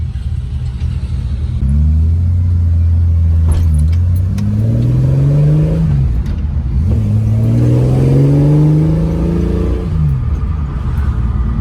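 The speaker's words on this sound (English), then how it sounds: "That was a dead cold start, and the car's idling very nicely." A fuel-injected car engine runs after a cold start, a loud, close, steady rumble whose pitch twice climbs and falls back, with no one speaking.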